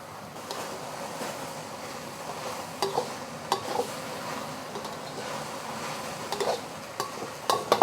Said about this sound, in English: Stir fry that a little bit.